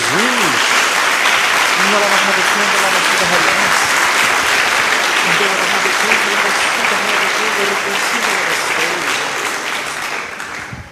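A church congregation bursts into loud, dense applause for Jesus during a Portuguese sermon, sustained clapping that fills the room and fades at the end, with a brief voice at the start.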